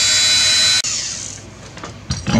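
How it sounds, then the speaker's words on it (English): A small power drill bores tiny holes in an old golf ball, a steady high whine up close that cuts out abruptly, then gives way to quieter handling clatter and a brief renewed burst. "want to drill a couple of little holes up here"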